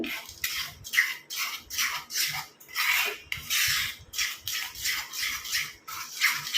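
Homemade hair dye paste stirred in a bowl, giving steady, rhythmic scraping and rubbing strokes, about two per second, close up with no talking.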